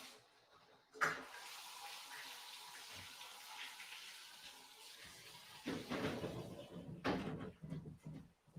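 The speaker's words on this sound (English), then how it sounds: "Let me go turn the water on." Tap water running for a shower to warm up, a faint steady hiss with a knock or door-like thud at the start and louder splashing bursts near the end, fairly quiet overall.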